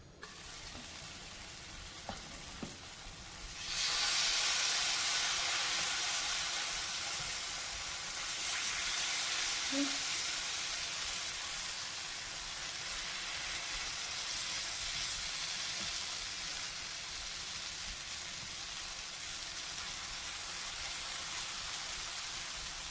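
Food lands on an oiled griddle and a loud, steady sizzle swells up after a few quiet seconds, then holds as a continuous hiss with no talking.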